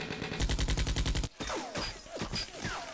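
Rapid bursts of automatic gunfire in a Vietnam War game fire in a steady loud rhythm for over a second, then give way to scattered single shots and whizzing, ricocheting effects.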